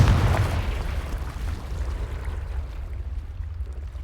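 A Confringo spell explosion in the video game Hogwarts Legacy: one booming burst at the start that fades into a rumbling tail over a few seconds.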